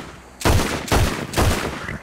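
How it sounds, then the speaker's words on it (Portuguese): Three loud pistol shots from an eight-round sidearm in Red Dead Redemption 2, fired at an even pace with each blast booming and decaying into the next. "Vamos dar um tiro de pistola."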